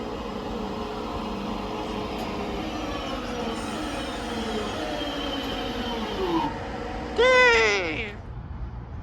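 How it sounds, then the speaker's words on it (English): A passenger train rumbles steadily under a continuous hum, then brakes squeal in rising and falling tones near the end as it slows close by at a platform. "here comes the 944 cross country service to Bristol Temple Meads from Manchester Piccadilly"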